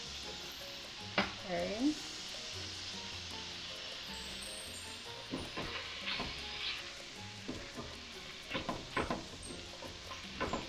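Carrots cooking in a frying pan with onion and peppers for picadillo give a steady sizzle throughout, with scattered stirring clatter and a brief voice.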